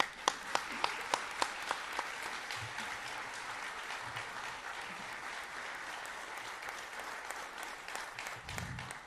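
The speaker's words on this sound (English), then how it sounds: "Let's clap for that." Applause at a memorial service in a church, a steady patter of many hands clapping at moderate distance, with a few sharp claps standing out at the start.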